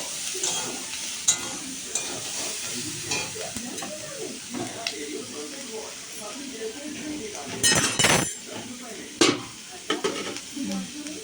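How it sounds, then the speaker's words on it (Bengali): Chopped green chillies frying in oil for chow mein, with a steady sizzle, repeated stirring scrapes and occasional metallic clinks of a utensil against the pan, while a person talks over the cooking. "একটু ভাজা ভাজা করে নেব তেল দিয়ে।"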